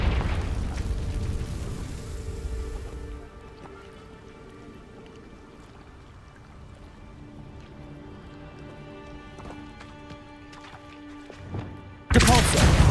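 Confringo spell explosions in Hogwarts Legacy, a loud fiery burst opening the scene, then a faint crackling lull with scattered pops before another abrupt loud blast at the very end; a voice calls out spells.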